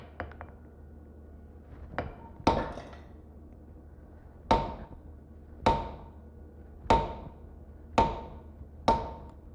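Blacksmith forging hot metal petals with a fuller and hammer, struck in sharp ringing metallic blows, about seven spaced at roughly one-second intervals with a couple of lighter taps first, in a quiet setting.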